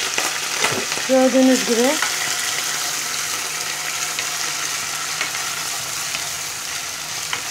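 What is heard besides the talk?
meat searing in hot oil for et kavurma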